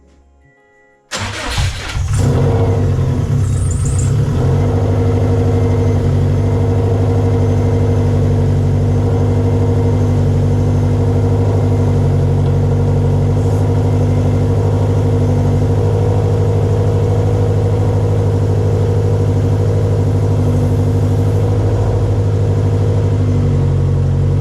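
A car engine turns over and starts after its fuel injectors were pulled and refitted, then settles into a steady, even idle that runs loud and close for over twenty seconds with no talking.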